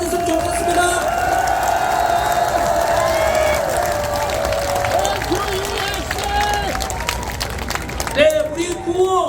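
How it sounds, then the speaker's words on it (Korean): A large outdoor crowd at a street rally claps and cheers, sustained dense applause with whoops and voices mixed in, a sustained tone sounding through the din, and a loudspeaker voice rising near the end. "우리 크게 박수 한번 쳐주고 감사하는 마음 가졌으면 좋겠습니다"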